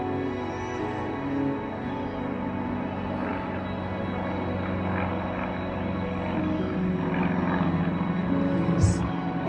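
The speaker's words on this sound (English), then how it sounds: "that airplane that's flying up overhead" A propeller airplane passes overhead outdoors, a steady distant drone that slowly grows a little louder over about ten seconds.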